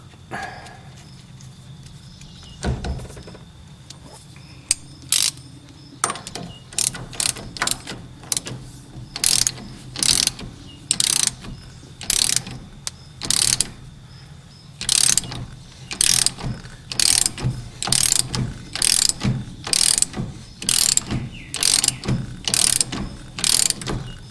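A ratchet tightens a nut on the horn button of a 1940s Chevrolet, starting with a few scattered clicks and then settling into steady bursts of rapid ratcheting clicks, close and fairly loud, with no talking.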